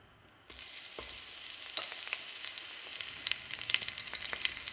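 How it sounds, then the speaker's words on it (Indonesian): Oil sizzles and crackles steadily as leaves fry in a hot pan, with scattered pops and stirring sounds rising slightly over a few seconds. "Ini kita tumis, kita goreng begini sampai dia harum."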